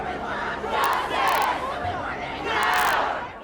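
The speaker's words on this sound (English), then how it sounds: "a large crowd has broken into Kensington Town Hall to vent its frustration" An angry crowd of protesters storms Kensington Town Hall after the Grenfell fire, chanting and shouting together in loud, rising waves of massed voices.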